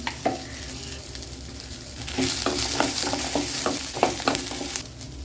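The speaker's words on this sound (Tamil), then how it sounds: "வெங்காயம் வெங்காயம் வதங்கிடுச்சுன்னா தேங்காய் வதலி அந்த சூட்டில் போட்டுடலாம்" Small onions and grated coconut sauté in a hot pan for a perandai chutney, a continuous sizzle broken by repeated scraping stir strokes from a spoon, close and fairly loud.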